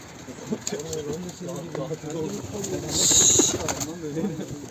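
Soft, low pigeon cooing repeats in rolling phrases, close by, with a brief brighter rustle partway through.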